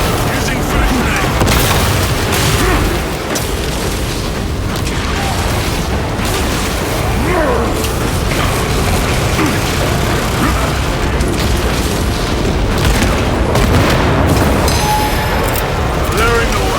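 Frag grenade blasts and battle din from Space Marine 2, a dense, continuous loud rumble of booms and gunfire filling the whole stretch, with combat voices mixed in.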